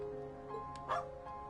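A short dog bark sounds during a Trails of Cold Steel 4 game scene, a single yip-like woof that is moderately close and rises over a steady background of game music.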